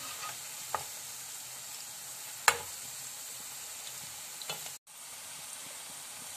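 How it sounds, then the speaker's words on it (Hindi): Vegetable pakoras fry in hot oil, giving a steady, soft bubbling sizzle throughout, with a few sharp clicks and taps from a utensil over the quiet hiss. "कुछ देर हो चुकी है फ्राई होते हुए, इनको हम साइड चेंज कर लेते हैं"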